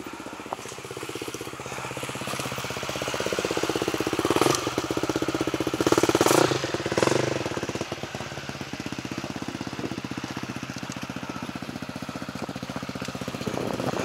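An enduro motorcycle engine runs at a rough, rapid idle nearby, with a brief louder rev partway through before settling back to a steady putter.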